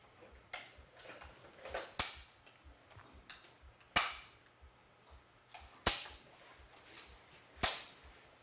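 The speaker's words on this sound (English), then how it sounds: "remove the belt box from the C9, close the ejection port cover, return the sights to 300, and lower the shoulder piece" Sharp metallic clacks and snaps come from handling a C9 machine gun, removing the belt box and closing the ejection port cover: five or six loud, distinct impacts spaced about two seconds apart, with softer rattles between.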